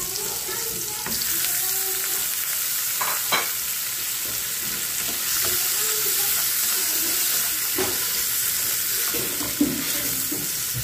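Shrimp and tomatoes fry in a pan, giving a steady, close sizzle throughout with occasional soft stirring clicks and scrapes, and no voices.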